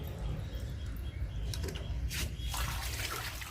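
Water pours and splashes steadily as a container fills at home, running the whole time, with the flow growing brighter and more forceful toward the end.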